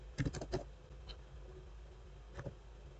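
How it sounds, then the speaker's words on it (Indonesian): Typing a command on a computer keyboard: a quick cluster of close key clicks at the start, a lone tap near the middle and another pair of keystrokes later, in a quiet room with no talking. "sekarang kita buat dulu. Kita ketikkan"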